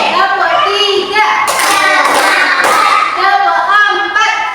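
A class of children claps hands together in a counted clapping routine: a short run of sharp, loud claps in the middle, with a teacher's voice talking over and around them.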